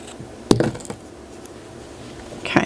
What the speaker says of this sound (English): And snip those ends.